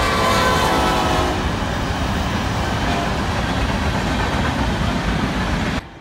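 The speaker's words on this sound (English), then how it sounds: "I saw a train." A train passes close by with a loud, steady rumble of wheels and cars that holds for most of the stretch, and a horn-like tone sounds early on before the noise cuts off abruptly.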